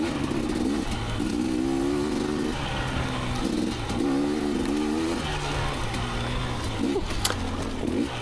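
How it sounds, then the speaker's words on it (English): A 2019 KTM 250xc dirt bike rides woods trails, its two-stroke engine revving up and down in repeated rising surges, loud and close, with wind noise over the whole ride. "KTM250xc, my woods bike, my weapon of choice for the trees."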